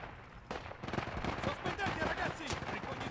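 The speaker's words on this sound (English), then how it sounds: "That guy got shot." Gunfire in the World War 1 mountain warfare game Isonzo: scattered rifle shots crack at mid-distance amid a busy battlefield backdrop, with several sharp reports across a few seconds.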